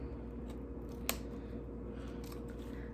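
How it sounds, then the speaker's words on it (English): Small snippers close up against the fur of a 2016 Furby Connect toy during a teardown, giving one sharp, brief clip over a steady low background hum. "These little snippers are the best thing for this job"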